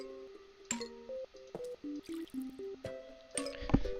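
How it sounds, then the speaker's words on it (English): Watering plants in the video game Plants vs Zombies gives a run of short, tonal, bubbly droplet blips at moderate volume, stepping up and down in pitch in quick succession, ending in a brief splashy burst. "It just takes a long time to actually water all these plants."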